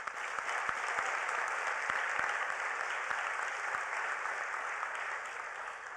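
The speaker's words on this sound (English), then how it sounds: "Let's give a big hand of applause to Mohammed" An audience applauds at the Hult Prize finals and awards ceremony at the United Nations, a steady wash of clapping sustained evenly for the whole stretch.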